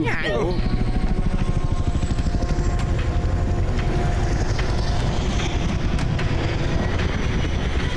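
A cartoon helicopter flies loudly and steadily throughout, its rapid rotor chop running under voices that talk over it.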